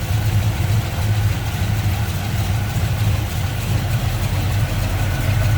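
1965 Ford Mustang fastback with a crate 302 V8, headers, HEI ignition and Edelbrock carburetor idling nearby, a steady deep rumble with a gentle lope, with a voice talking over it.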